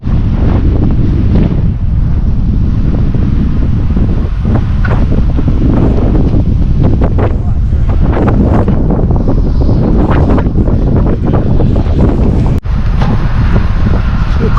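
Strong wind buffets the microphone during a group road cycling ride, a steady, loud roar with low rumbling underneath and no voices.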